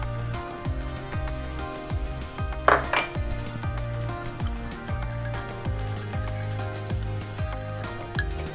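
Tablespoon of sugar being stirred into pineapple juice in a pot, a steady series of light metallic scrapes and clinks from a spoon against the pot, with one brief louder clatter partway through, over a faint musical background.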